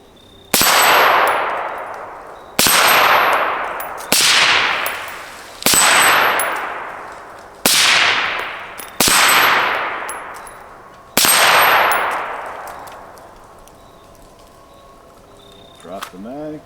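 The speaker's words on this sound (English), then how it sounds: "Hit the flappers on the left." Seven sharp gunshots ring out on steel flapper targets at an outdoor shooting range, each a loud crack with a long metallic ring, spaced one to two seconds apart, with a faint voice near the end.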